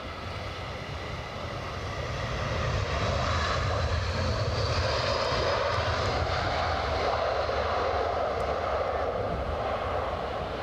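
An aircraft engine roars steadily at Edinburgh Airport on a windy day, a broad, moderately distant rumble that swells after the first couple of seconds and then holds.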